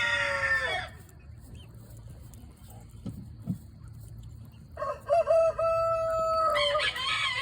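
Chickens and several roosters in a backyard flock: a loud rooster crow opens, soft clucking and scratching fill a quieter middle, then more crowing rings out near the end.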